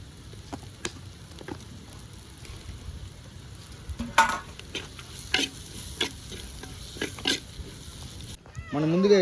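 Tomatoes and green chillies sizzle softly in a pan for prawn and gongura fry, with intermittent scraping strokes of a stirring spoon and a voice speaking between them.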